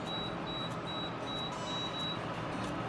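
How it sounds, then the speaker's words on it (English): An alarm beeps faintly in repeated short high tones at an even pace, set against a steady noisy kitchen background with no talk. "that's my alarm going off. I got to shut that off."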